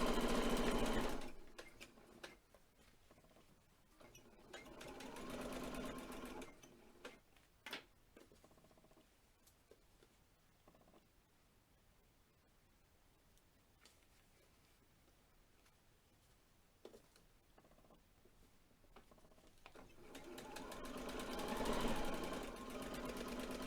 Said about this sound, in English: Going to stitch all the way along, again approximately 1/4 of an inch from the edge.